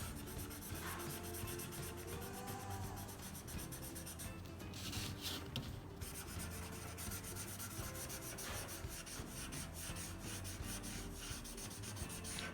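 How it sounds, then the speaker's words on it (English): Steady scratchy rubbing of a coloring tool shading in on paper, continuous and close for the whole stretch, with no talk over it. "color it in, color, all the way,"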